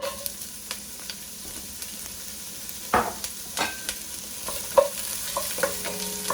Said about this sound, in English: once the olive oil, heats up, we're going to add onions